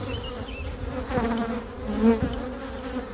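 Honey bees buzzing close by at an open beehive during an inspection of the supers, a continuous droning hum with individual bees swelling louder as they pass near.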